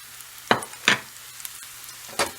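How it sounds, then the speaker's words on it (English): Tofu fried rice in a hot pan, stirred quickly to keep it from sticking: three short, separate scraping bursts over a faint, steady frying hiss, close and fairly quiet. "And we're going to stir it really fast. Don't want it to stick."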